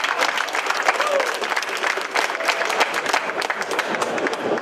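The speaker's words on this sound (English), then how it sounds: "let's give a round of applause for Kenson." An audience at a SIGGRAPH 2013 conference session applauds with sustained, dense clapping from a crowd filling the room, steady throughout with a few faint voices mixed in.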